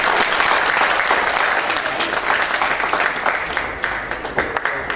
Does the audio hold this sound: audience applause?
yes